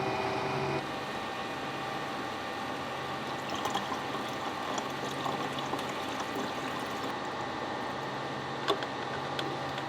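Distilled water poured into the cooling tank of an xTool P2 laser cutting and engraving machine, a faint steady trickle and hiss, with a few small clicks and knocks.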